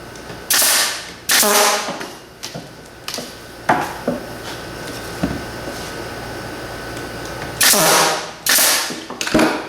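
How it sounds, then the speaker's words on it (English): A nail gun drives 3/4 inch 18 gauge brads into a wooden deep beehive frame, giving sharp pneumatic bursts in irregular clusters, with quieter handling knocks and clicks between shots. "Just take your nail gun, 3/4 inch 18 gauge brads."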